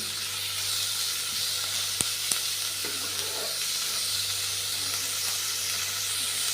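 Onions fry in oil for a bitter gourd curry, giving an even, continuous sizzle with a couple of faint utensil clicks and no talking.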